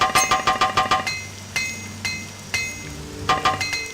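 Metallic hammer clinks from repairing gear in the video game Morrowind, a fast run of ringing strikes followed by slower, spaced single blows and another quick cluster.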